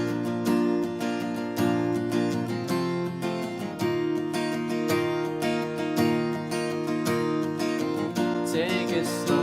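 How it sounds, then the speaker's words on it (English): Acoustic guitar strums the intro chords of a song in a steady, full, close rhythm with no voices. "What I'll do now is go through that intro,"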